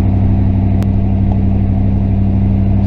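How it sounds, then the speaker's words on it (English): Inside a Pontiac Firebird on the move with its rear half torn apart, a loud, steady engine and road roar fills the cabin, with a rattling clunk from the back. "Loads of noise coming from the back half of the car, which is currently completely torn apart."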